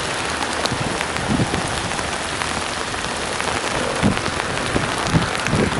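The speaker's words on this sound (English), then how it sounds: "It's really bucketing down at the moment. Coming down quite heavily." Heavy rain pours down steadily at a dam, a dense even hiss of drops striking water and ground, with a few louder splashes and no voices.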